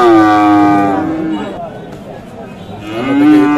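Cattle at the Khochabari livestock market in Thakurgaon bellow loudly nearby, two long low moos with a pause between them, heard up close over faint crowd murmur.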